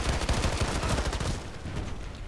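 AKS-74u submachine gun fire in Call of Duty, a rapid automatic burst of loud, close shots that rattles steadily for over a second, then tapers into quieter trailing noise.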